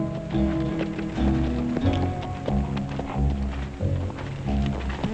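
Horse hooves clip-clopping in a steady, fairly loud rhythm, with a light layer of background sound throughout and no speech.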